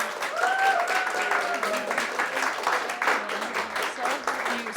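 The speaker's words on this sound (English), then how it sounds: "please give a round of applause for all of these amazing panels." An audience at a Maui business panel event breaks into sustained applause, a dense wash of clapping that holds steady for several seconds as a voice speaks over it.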